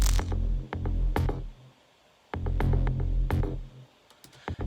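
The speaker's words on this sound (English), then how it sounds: "So altogether, that bass layer sounds like this." Layered aggressive synth bass from an electronic track, playing two loud sustained phrases with heavy low end and bright transient hits, separated by a brief near-silent gap, with no talking.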